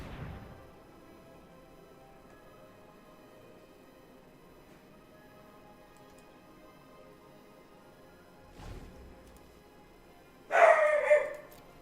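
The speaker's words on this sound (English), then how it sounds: "Barking at Lord knows what." A dog barks in a short loud burst near the end, preceded by a fainter bark a few seconds earlier, over a quiet room hum.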